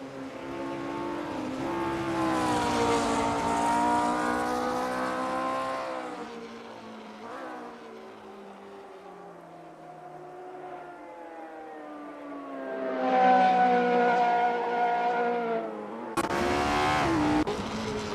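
Lotus Type 25 race car engines in the Assetto Corsa racing game whine steadily with rising and falling revs, fading quieter midway before swelling again, ending in a sudden harsh change.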